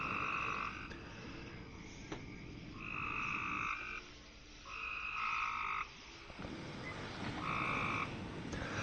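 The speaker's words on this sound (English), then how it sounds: "I swear, I've got frogs living underneath my porch." Frogs croak under a porch at night in repeated, evenly spaced bursts of loud trilling calls over constant background hiss, with no voices.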